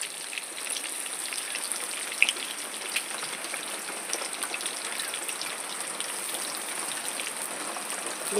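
Steady rain falls outside, a soft even patter of drops with a faint hiss throughout and no voices.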